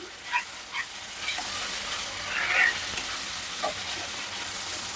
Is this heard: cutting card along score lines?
no